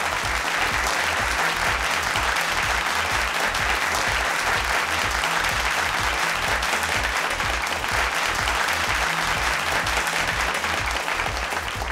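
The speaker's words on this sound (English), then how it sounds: "let's give a huge round of applause to the boys from St." Studio audience at a televised school quiz contest applauding for a St. Thomas' College team, loud sustained clapping filling the whole stretch with a rhythmic low thumping beat running beneath it.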